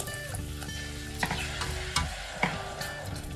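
Apple pie filling sauce is stirred in a pan over a medium flame, a quiet low sizzle broken by a few soft scrapes and taps of the spoon, close by with no voices.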